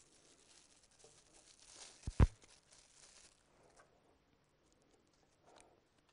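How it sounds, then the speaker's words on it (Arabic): Plastic bag being torn open, a brief sharp rip with a couple of crinkling snaps amid faint rustling, close and otherwise quiet. "ثانيه نفتح نحاول نفتح الكيس ده."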